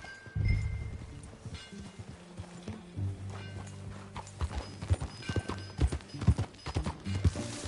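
Video game horse hooves from Red Dead Redemption 2 clip-clop in a steady trotting rhythm, close and clear, over a low rumble of background ambience.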